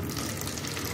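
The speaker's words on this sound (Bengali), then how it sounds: "এইবার আমার জলটা পড়া স্টার্ট হয়ে গেছে" Water gushing steadily out through an aquarium siphon pipe during tank cleaning, a continuous close splashing flow with no pauses.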